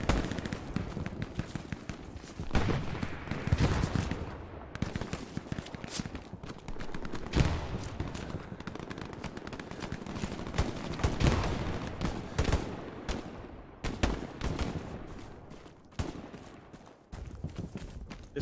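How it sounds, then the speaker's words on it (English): Tank fire on a Hell Let Loose battlefield, with heavy booms mixed into a dense, continuous crackle of gunfire that keeps up without pause. "What tank is that that's shooting?"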